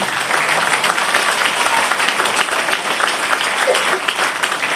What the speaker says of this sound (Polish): Także brawa dla Maćka też.